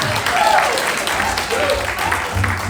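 An audience claps along at an acoustic country concert, a steady dense patter of hands heard up close beneath a low hum of voices.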